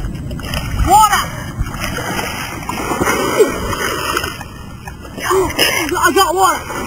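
Water splashes in a wilderness survival game as someone scoops it up, short bursts of splashing and gurgling under excited talk and voices throughout.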